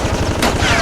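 Rapid machine-gun fire as a sound effect in a stop-motion Transformers battle, a loud dense burst of overlapping shots filling the whole moment, close and harsh.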